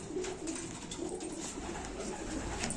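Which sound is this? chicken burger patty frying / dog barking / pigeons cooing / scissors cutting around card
pigeons cooing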